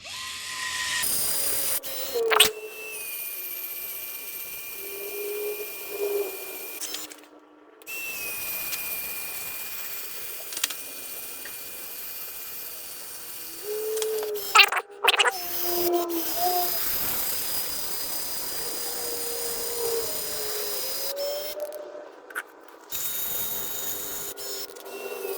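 A SEESII cordless caulking gun running at full speed, a steady whirring motor drone with clicks and short pauses, close by, lasting throughout with a few abrupt stops.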